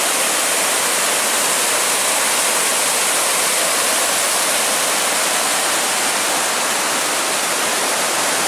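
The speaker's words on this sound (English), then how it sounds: "Water's really going now." Fast-flowing river rushing along the Superior Hiking Trail, a loud, dense, unbroken roar of water close by that stays constant throughout.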